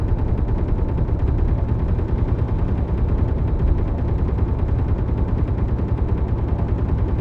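Rapid gunfire in a video game, a dense, continuous rattle of shots at a steady, fast rhythm, loud and constant, heard alone.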